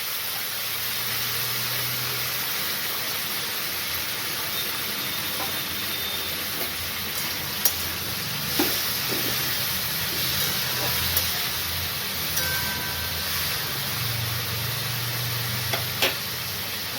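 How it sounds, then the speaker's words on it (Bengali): Sliced potatoes and bitter gourd fry in oil in a wok, a steady hiss running throughout, with occasional faint clinks and stirring sounds. "আলু আর উচ্ছে কেটে রেখেছিলাম, সেইগুলো আমি"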